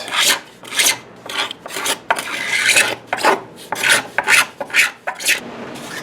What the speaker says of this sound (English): Now you can do it with a file like I did for many years, but the scraper, it just makes it so much easier.